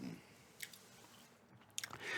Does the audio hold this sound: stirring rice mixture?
no